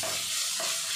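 Steady, close sizzling of onion and tomato sautéing in hot oil with salt, a continuous crackling hiss with faint stirring, no voices.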